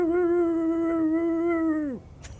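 A dog named Merlin whines happily in a long, steady high-pitched tone that holds for about two seconds before bending down and cutting off, followed by a faint short yip.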